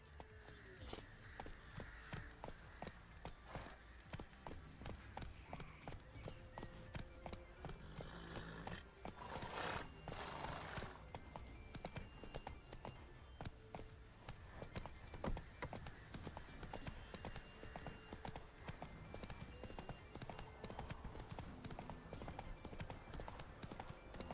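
A horse named Roach trots along in a video game, its hooves clip-clopping in a steady, repeated rhythm close by, with game sounds underneath and a brief burst of noise partway through.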